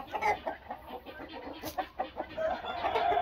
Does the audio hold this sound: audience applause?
no